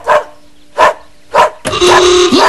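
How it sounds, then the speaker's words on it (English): A dog barks three times in an even rhythm, loud and close, then a burst of bright, busy sound follows right after. "That's a dog barking, Barney."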